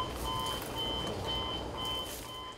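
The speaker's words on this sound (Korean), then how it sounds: "이때 경보음이 울립니다." An alarm on a farm machine used for growing romaine lettuce beeps in a regular, evenly spaced series of short electronic tones. The beeps are faint and sit over a low background rumble.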